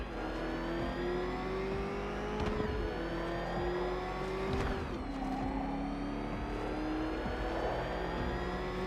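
Batmobile engine in Batman: Arkham Knight revving continuously, with a rising and falling whine and roar plus a couple of sharp surges, loud and close, no speech.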